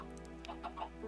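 Chickens in Minecraft give a few soft, quick clucks, faint and close together in a brief burst.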